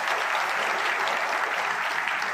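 Loud, dense applause from a large rally crowd, with hundreds of young people clapping hard in an unbroken roar that holds steady throughout the short stretch.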